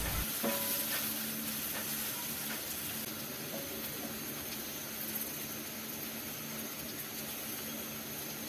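Chopped garlic and onion frying in warm oil in a pan while being stirred, giving a steady, close sizzle with occasional scraping clinks throughout.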